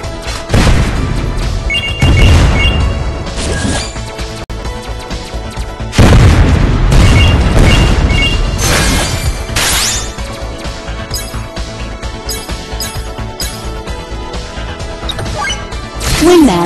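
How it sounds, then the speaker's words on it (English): Explosion strikes in a video game, a series of loud booming blasts and crashing impacts with heavy low rumble, strongest near the start and around the middle, layered over busy game effects and music. "Explosion strike."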